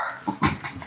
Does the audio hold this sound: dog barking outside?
yes